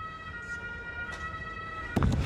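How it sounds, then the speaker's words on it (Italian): Emergency vehicle sirens sound on a street in Turin, a steady wailing tone somewhat distant under city noise, with a brief louder burst of traffic near the end. "pure sirene"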